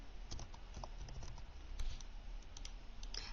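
Typing a Roblox login on a computer keyboard: light, quick key clicks in an irregular patter, close and fairly quiet, with no voice over them.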